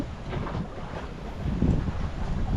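Wind rushing past a sailboat under sail with its engine off, moving at about six knots, with a broadband whoosh of wind and water, steady with slight swells, and no voices.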